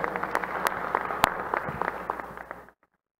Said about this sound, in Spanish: les pido un aplauso a Débora por su excelente presentación